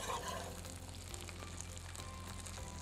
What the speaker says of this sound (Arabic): هلا هيك حركنا الطحين مع الزبدة